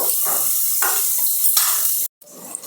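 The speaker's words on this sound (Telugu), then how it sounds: "ఇప్పుడు కొంచెం అల్లం వెల్లుల్లి పేస్ట్ వేసేసుకుందాం" Ginger garlic paste hits hot oil with chillies and garlic in a pan, a loud bright continuous sizzle with a few stirring scrapes, cutting out briefly near the end before the frying hiss resumes.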